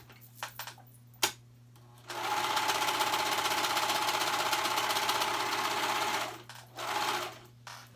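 A sewing machine stitches a hoodie shoulder seam in one continuous close run of about four seconds, a fast steady mechanical whirr and rattle. A few small handling clicks come before it, and a brief final burst of stitching follows.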